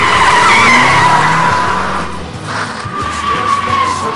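A car's tires squeal and skid loudly and close by as a valet parks it, a sustained screech that dips briefly and then resumes with engine noise underneath.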